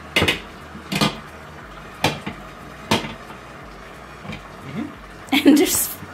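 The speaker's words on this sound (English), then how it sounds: "So put the plate on top." Kitchen clatter as a plate is set over a frying pan holding a fajita, with a few sharp knocks and scrapes spaced through the clip and a louder clattering burst near the end.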